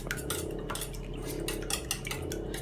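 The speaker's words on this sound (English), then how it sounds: "Whisk it up. Make sure it's all mixed in." Choux pastry mixture being whisked in a bowl makes rapid, irregular metallic clicks and taps of the whisk against the sides, close and moderately loud over a low hum.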